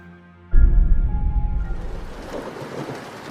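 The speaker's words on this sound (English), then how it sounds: "We see it's starting to rain," A sudden close rumble of thunder breaks over a quiet scene, followed by a steady, loud hiss of falling rain that carries on as the rumble fades.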